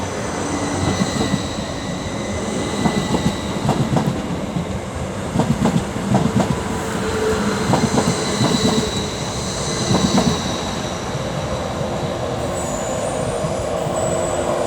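Northern passenger train on the Doncaster to Leeds service pulling out of Wakefield Westgate station on the East Coast Main Line, a loud steady rumble with rhythmic wheel clicks over rail joints and some faint squeal.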